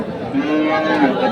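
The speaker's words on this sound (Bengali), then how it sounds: "চমৎকার একটি বলদ গরু" A bullock lows at a busy rural cattle market in Dinajpur, a single drawn-out moo carrying over a low murmur of crowd chatter and nearby voices.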